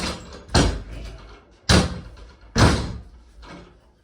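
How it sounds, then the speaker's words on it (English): A door is pushed shut with several heavy thuds and slams, loud and close, in a quiet indoor room with no talking. "let me close the fucking door"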